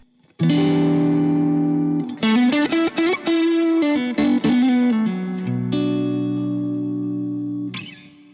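Stratocaster electric guitar with a passive, battery-free mid boost mod, boosted midrange tone, a held chord followed by quick distorted notes and a long sustained chord fading out, played alone.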